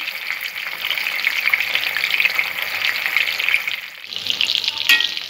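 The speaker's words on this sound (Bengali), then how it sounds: "মাছগুলো এপিট ওপিট কড়া করে একটু ভাজতে হবে।" Shol fish fry in hot oil, a loud, continuous close-up sizzle with crackling spatter that briefly dips before resuming.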